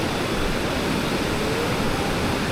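Ocean surf at a beach where surfers ride the waves, heard as a constant loud broadband wash of breaking water with no distinct pauses; no speech.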